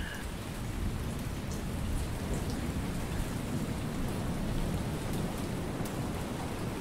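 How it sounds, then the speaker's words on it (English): Heavy rain pours steadily in the naval submarine video game War on the Sea, a dense continuous roar with a low rumbling undertone of thunder, no talking. "And the rain is pretty heavy."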